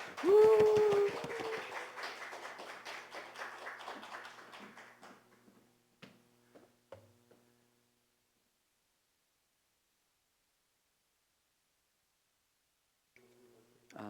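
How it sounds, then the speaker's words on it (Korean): A church congregation gives applause of welcome for a professor; the dense clapping starts fairly loud, thins into scattered claps over several seconds, then fades to near silence before faint sounds return. "우리 신형섭 교수님 앞으로 모실 때 큰 박수로 환영해 주시겠습니다."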